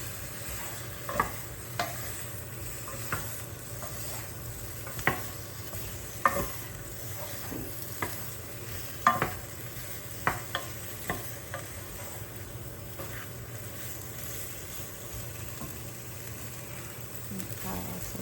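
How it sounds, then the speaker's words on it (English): Beef curry being stirred in a sizzling pan: a low, constant frying hiss with scattered scrapes and clicks of a utensil against the pan, fairly quiet and close, no talking. "And stir it all the way through."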